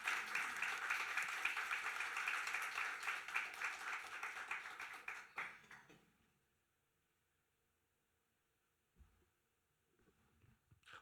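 Audience applause at a book launch for a literary academy magazine, steady dense clapping from a seated crowd that fades out after about five seconds, followed by near silence with a few faint thumps.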